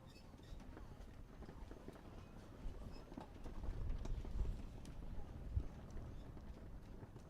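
Hooves of a show jumper clip-clop across a Grand Prix arena, a faint, irregular patter of steps under low, distant ambient noise.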